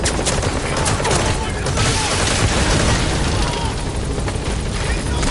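Helicopter cover fire in Metal Gear Solid V, a loud sustained barrage of rapid gunfire and booming impacts layered over rotor noise, dense and continuous throughout.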